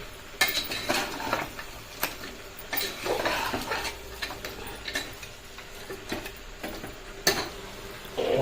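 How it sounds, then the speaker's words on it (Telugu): Country chicken curry being stirred with chili powder, coriander powder and masala in a pot, with irregular knocks and scrapes of a spoon against the metal and a faint sizzle beneath. "కారం ధనియాల పొడి మసాలా వేసాం కాబట్టి మూడు బాగా మిక్స్ అయ్యేలాగా కలుపుకోవాలి"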